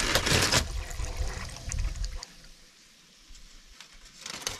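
Water rushes steadily from a manually opened electric garden irrigation valve fed by high-pressure household plumbing from an elevated water tank, with a loud initial burst easing into a continuous nearby flow; no one speaks.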